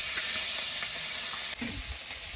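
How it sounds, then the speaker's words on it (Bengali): Snakehead fish frying in hot oil gives a steady, close sizzle that carries through the whole stretch, with a few soft stirring knocks in the pan and no talking. "এখন আমি এগুলো ভেজে নেব।"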